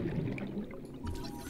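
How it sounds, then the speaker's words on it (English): A water filtration machine in an underwater video game gives off a brief, soft pouring and gurgling of liquid with a low mechanical hum beneath. "Water filtration machine."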